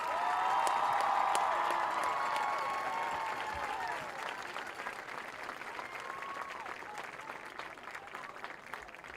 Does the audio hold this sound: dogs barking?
no